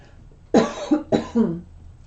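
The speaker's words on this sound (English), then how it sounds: "my famous little cough in a reading" Two short, close coughs in quick succession, each a sharp burst followed by a brief rasp.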